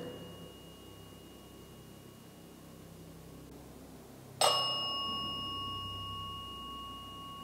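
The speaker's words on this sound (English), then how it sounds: "Each time I hear the bell ding," A single sharp metallic ding from a bell inside the haunted Cambria County Prison, striking once and ringing out with a long, clear decay over faint background hiss.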